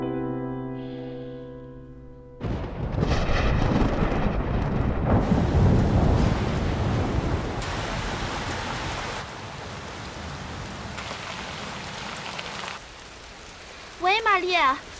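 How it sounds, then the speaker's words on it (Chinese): Heavy rain pours in a steady loud wash with rumbling thunder, starting abruptly after a quiet musical opening and easing slightly later, before a brief burst of whistling tones near the end. "我们这儿下大暴雨"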